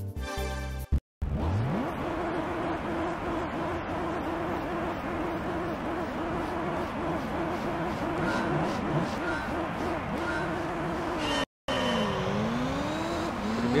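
Toyota Supra engine in Gran Turismo 3, a continuous loud whine that climbs and drops through repeated gear shifts, with tire squeal and brief sudden cutouts, a voice talking underneath.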